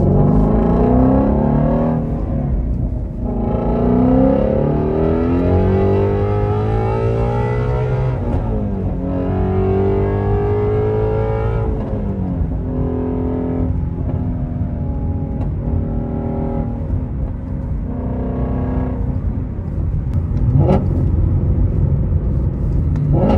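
Ford Mustang Shelby GT350 V8 engine revving from inside the car while driving, with repeated rising and falling rev sweeps, deep rumbling idle between pulls and sharp throttle blips near the end.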